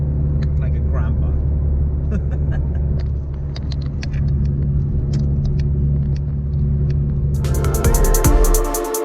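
Subaru BRZ engine hums steadily while driving, a loud, continuous low rumble and road noise that rises toward the end with a brighter roar.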